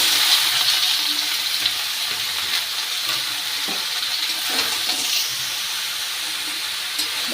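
Finely chopped bottle gourd fries in a pan with dried chillies, giving a loud, steady sizzle that fills the whole stretch, with faint stirring knocks underneath and no voices.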